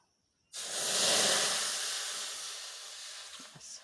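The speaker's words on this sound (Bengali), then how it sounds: "এখন আমি এটাতে পরিমাণ মতন পরিমাণ মতন জল দিয়ে দেব" Water poured into a pan on a lit gas stove hisses and sizzles suddenly, starting loud and tapering off gradually over a few seconds.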